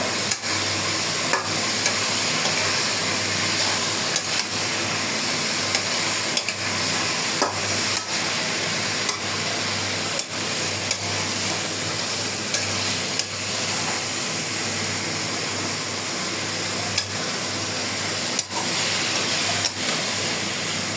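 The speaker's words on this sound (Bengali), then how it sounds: "ভালো করে সব লাড়ে মিশিয়ে নিব।" A spoon stirs and mixes ingredients in a hot pan while a curry of potatoes, jackfruit seeds and fish with mustard cooks, giving a steady sizzling hiss with occasional sharp scraping knocks throughout.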